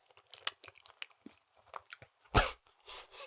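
Sour cream and chive mashed potatoes with pan drippings being eaten close to the mic, with soft wet chewing and small mouth clicks, one louder bite near the end, no talking.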